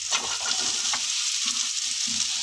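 Snake gourd tipped into frying masala and stirred in a pan for a Tamil poriyal, with a loud, close sizzle and repeated rhythmic scraping strokes of the spoon.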